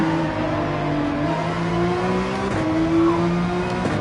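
A Mazda race car in Gran Turismo 7 screams at high revs, its engine pitch climbing and dropping sharply through gear changes, loud and steady throughout.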